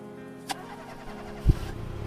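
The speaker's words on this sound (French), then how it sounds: "Démarrez cette voiture et arrêtez de parler." A car engine cranks and catches near the end, a short loud burst of starter and ignition followed by a low idle rumble, with a brief thump earlier in the clip.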